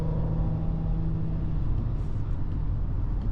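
A 2025 Audi Q3 with its snappy 8-speed automatic transmission drops through quick downshifts, giving a steady, loud engine drone from inside the cabin with a tone that shifts partway through.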